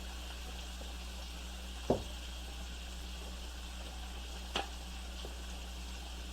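Hamburger patties sizzling in a hot pan with seasoning oil, a steady low frying hiss with two brief sharp clinks of utensils against the pan.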